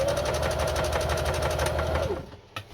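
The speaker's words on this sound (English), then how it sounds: "Now I'm going to add some stitch width, and we'll sew a zigzag." A Singer Genie sewing machine runs a zigzag stitch, giving a fast, steady mechanical chatter with a motor whine underneath. It is close and loud for about two seconds, then winds down and stops, followed by a single small click.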